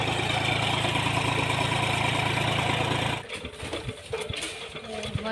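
A tractor engine drives a pump drawing water from a well, a steady mid-pitched idling chug heard up close for about three seconds before it cuts to quieter, irregular knocks and background noise.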